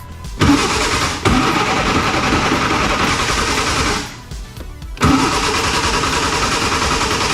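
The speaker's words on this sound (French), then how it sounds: "Et une fois que la pression d'huile est remontée un petit peu, ce qu'on va faire, c'est qu'on va pouvoir lancer le démarrage." A vintage single-seater race car engine is cranked after an oil change. It catches and runs loudly and roughly, dies away, then fires up again and keeps running close by.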